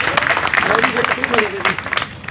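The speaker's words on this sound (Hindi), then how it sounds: "अगर मैं सही कह रही हूँ तो मेरे पक्ष में ताली बजा दीजिए।" Applause from the audience at a Hindi poetry recitation during a Ganesh festival: a steady, dense patter of many hands clapping, loud and spread across the crowd, with someone speaking over it.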